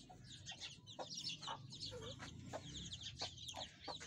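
Farm hens cluck in short bursts, several sharp calls spaced across a few seconds over a low rustling background, fairly quiet and with no talk.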